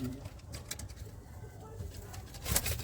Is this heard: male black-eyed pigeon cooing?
yes